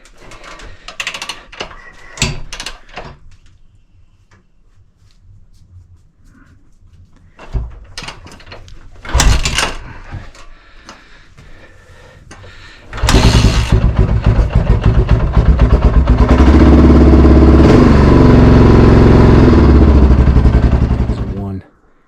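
A 2001 Honda XR650R dirt bike started cold at high altitude in freezing air, with some clunks and cranking attempts before it fires and settles into a loud, rumbling, steady idle close by.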